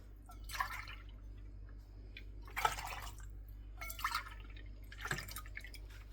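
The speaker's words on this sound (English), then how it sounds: "To this, I am going to add 4 cups of milk." Milk poured into a pan while being stirred, making four separate splashy, trickling bursts close by over a steady low hum.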